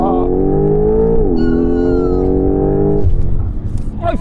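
A sports car launches with stability control off, its engine revving up in steady rising harmonic sweeps through a gear change, loud and close, before the roar cuts off near the end.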